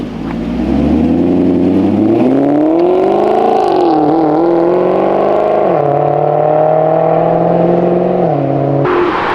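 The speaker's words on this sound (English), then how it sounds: "Vince, put it in manual so you can hear that exhaust." A Maserati supercar exhaust revs in manual mode, loud and close, its tone climbing and dipping through long, sustained pulls for about nine seconds with no talk.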